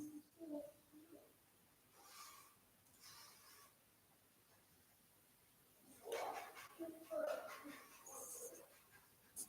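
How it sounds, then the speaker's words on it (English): A young German Shepherd dog, almost a year old, gives a few soft, high puppyish barks and whimpers, faint and close, with quiet gaps between them. "My dog said hello."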